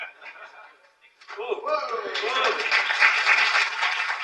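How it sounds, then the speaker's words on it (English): An audience at a tech conference launching an IPv6 certification program starts clapping after a short pause, and the applause builds into a dense, sustained round with voices mixed in. "Please give a round of applause to celebrate this launch of program"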